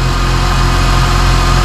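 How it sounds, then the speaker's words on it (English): A 2002 Honda Jazz engine runs steadily after an oil change and radiator replacement, a loud, close, continuous idle rumble with no change in pace and no talking. "See, new oil, the engine sound really good."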